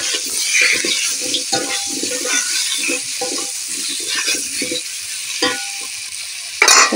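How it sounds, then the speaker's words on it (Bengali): Fried potatoes and papaya with turmeric are stirred in a pan, a loud steady sizzle with repeated scraping and clinking of the spatula against the pan, heard without talk. "আলুটা কষিয়ে নিয়েছি, এবার পেঁপেটা দিয়ে হালকা নাড়াচাড়া করে নেব।"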